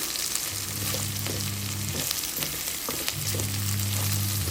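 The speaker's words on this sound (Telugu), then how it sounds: "మళ్ళీ బాగా ఫ్రై చేసుకోవాలి హైలోనే ఉంచుకుని ఫ్రై చేసుకోవాలి" Okra pieces frying on high heat in a pan, a steady close sizzle with a low hum and occasional stirring scrapes, no voices.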